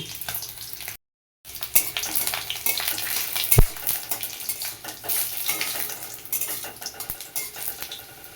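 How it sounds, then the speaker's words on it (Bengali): Garlic cloves and dried red chillies fry in hot oil in a kadai, a loud close sizzle broken by frequent clinks and scrapes of a metal spatula against the pan, with a brief gap of silence early on. "প্রথমে আমি রসুনগুলো দিয়ে দিলাম তারপরে আমি শুকনো লঙ্কাটা দিয়ে দিলাম এটা একটু ভালো করে ভেজে নেব"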